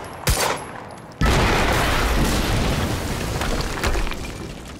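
Explosion in the video game Quantum Break: a sharp blast, then a sudden heavy boom that swells into a long, loud roaring rumble with crackling debris, sustained for several seconds.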